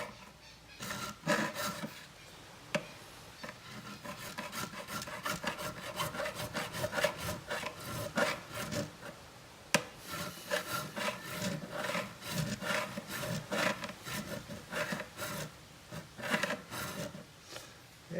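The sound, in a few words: filing frets on Ibanez GiO guitar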